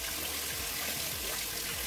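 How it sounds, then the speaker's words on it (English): Tap water runs for rinsing a face with cold water at a bathroom sink, a continuous close, bright rushing splash that holds steady without a break and with no talk. "And then after that, I rinse my face"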